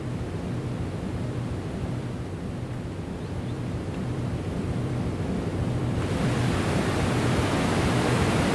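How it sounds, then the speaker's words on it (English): A loud waterfall by a shore crossed by a small footbridge, a continuous rushing roar of falling water that swells a little louder toward the end, with no voices. "Ooh, a waterfall."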